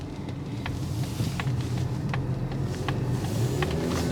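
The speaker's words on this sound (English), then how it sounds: "The transmission 6-speed just really shifts nicely." A 2025 Mazda CX-50 with a 6-speed transmission accelerating on the road, a steady low engine and road rumble heard from inside the cabin, moderately quiet with small ticks over it.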